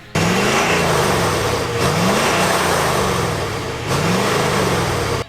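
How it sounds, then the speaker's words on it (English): A Ford Super Duty truck's diesel V8 gives a steady, deep thrum at cruising speed, with a low rhythmic pulse and a couple of brief swells in engine note, loud and close with no voices. "yet it has a nice thrum to it. It tells you it's a diesel,"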